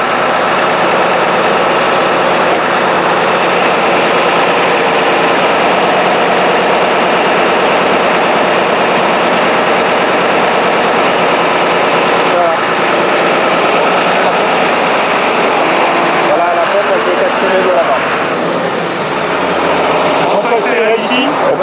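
A Matrot Maestria 15 agricultural sprayer with its engine running and simple pump working, a loud, steady broadband hum throughout with some changes in texture toward the end.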